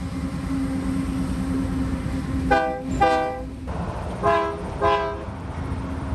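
Union Pacific Big Boy steam locomotive sounding its horn in North Texas, two paired pairs of blasts over a steady rumbling engine drone, fairly close and loud.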